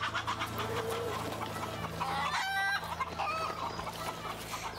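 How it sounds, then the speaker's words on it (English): Chicken clucking in the video game A Way Out, several birds giving short, busy clucks and squawks at moderate level over a steady low game-ambience hum, with no talk. "A flying chicken."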